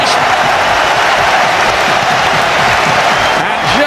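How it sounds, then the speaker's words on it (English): Dense roaring applause and cheering from a packed football crowd at Anfield after a goal at Euro 1996, loud and continuous, a broad wash of clapping that swells slightly near the end. "Just listen to the applause ringing around Anfield."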